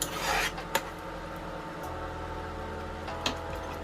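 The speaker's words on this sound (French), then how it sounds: "c'est ma plaque, ma petite plaque qui fait du bruit" A small electric hotplate gives off a steady low buzzing hum with faint scraping from stirring fish in a pan, plus a couple of brief knocks; no one speaks.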